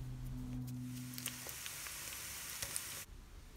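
Minced meat sizzles steadily in a hot oiled pan, a constant crackling hiss heard close, with a low hum fading out early on.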